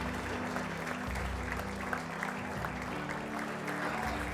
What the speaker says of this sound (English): Let's have one more round of applause for our 8 individual inductees and 5 teams